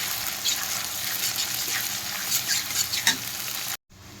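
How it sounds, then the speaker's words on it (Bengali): Ginger paste and green chili paste frying in a pan for dhaniya chicken, a steady bright sizzle with a few stirring scrapes, cutting off abruptly near the end. "তো দিয়ে ভালো করে আবার কষিয়ে নেব মশলাটা।"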